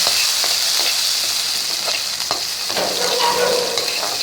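Raw garlic frying in mustard oil, a bright steady sizzle with a few sharp stirring clicks and scrapes, close and fairly loud, no voices.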